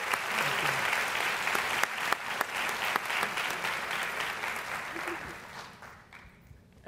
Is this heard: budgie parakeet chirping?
no